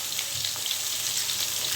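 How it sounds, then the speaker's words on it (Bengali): Fish fries in fish oil with a steady, dense hiss and crackle, close and even throughout, no voices. "এই যে দেখেন এই মাছের তেল দিয়ে আমিও মাছ ভাজবো"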